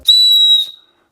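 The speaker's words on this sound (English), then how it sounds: "On the left hand pocket, we also have the addition of a small emergency whistle, and believe me, this is a loud whistle." A small emergency whistle clipped to the left pocket of a Kailas Fuga Air 8 IV trail running hydration vest gives one loud, piercing, steady blast lasting over half a second, then cuts off, heard close and alone.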